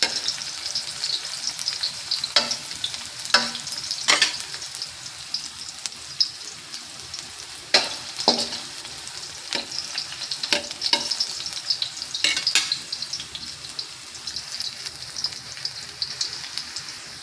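Onions and garlic frying in a pan until browned for beef caldereta, a steady sizzle with several sharp stirring scrapes spread through, no talk.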